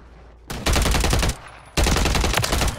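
Automatic gunfire in Call of Duty: Warzone, two loud rapid bursts, the second longer, close and dominant against a quiet game background.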